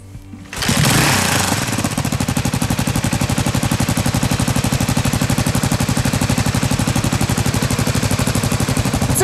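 A motorcycle engine fires up after an oil change and settles into a loud, steady, rapidly pulsing idle that runs without a break, close by and with no talk over it.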